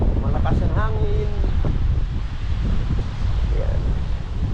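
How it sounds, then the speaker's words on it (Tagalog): Strong wind gusting outdoors on a street, a loud low rumble buffeting the microphone throughout, with a voice speaking briefly over it near the start. "Malakas ang hangin."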